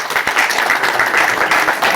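An audience at the end of a poetry and song performance gives warm applause, a lively mass of clapping with a few sharper individual claps, steady and unbroken over two seconds.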